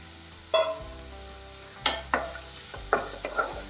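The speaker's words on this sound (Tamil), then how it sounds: "வெங்காயம் கொஞ்சம் வதங்கட்டும்." Sliced onions sauté in a pan for a chutney, heard as a few soft stirring scrapes and light sizzling bursts at close range, fairly quiet with no voices.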